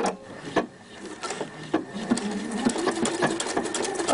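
A sewing machine stitches a seam through webbing tape, running at a steady, close mechanical whir with rapid needle clatter and no talk.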